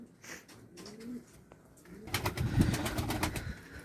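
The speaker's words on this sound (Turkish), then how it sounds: "Şu kostüm güvercinlerini salayım" Pigeons of a crested costume breed coo softly and intermittently, with a fuller burst of fluttering wings and cooing growing louder as the birds are let out from a loft.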